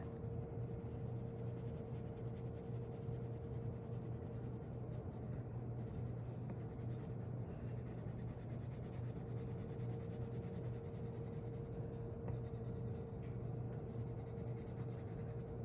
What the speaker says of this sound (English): you're gonna color your brick right up against your design right here